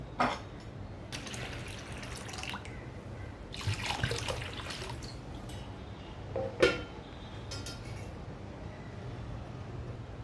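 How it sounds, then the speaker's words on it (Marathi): Water poured from a tap into a vessel of soaked lentils and sorghum, in several short splashing bursts with brief drips between them, close and fairly quiet. "थोडं पाणी घालते अजून"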